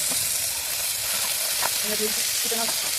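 Chopped onion and tomato hit hot oil for a mutter paneer curry, giving a steady, close sizzle that runs throughout, with a voice faintly audible underneath near the end.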